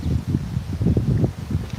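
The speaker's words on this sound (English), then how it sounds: "It's all of a sudden gotten windy here" Wind gusts outdoors on a very hot day, a continuous low rumbling buffet against the microphone with uneven swells and no voices.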